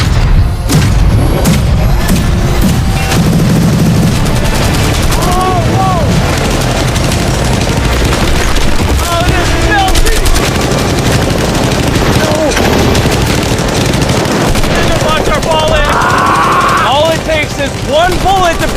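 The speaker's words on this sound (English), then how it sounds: "They just brought out the LMG." Light machine gun firing at a Lamborghini, dense rapid bursts of loud gunfire and impact thuds running nearly continuously, mixed with excited shouting voices throughout.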